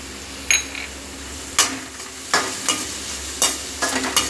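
Grated ginger, onion and green chilli frying in a pan, a soft steady sizzle broken by about six sharp stirring scrapes and clinks of a spoon against metal.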